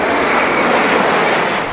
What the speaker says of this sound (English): there is an air show. There are some airplanes